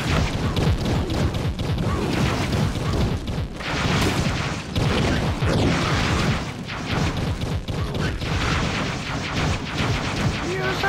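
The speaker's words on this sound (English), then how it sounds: "Okay, bomb time." Bomb blasts in the video game Trove, a rapid barrage of loud booming explosions and crashing impacts that repeat irregularly and pile over one another for several seconds.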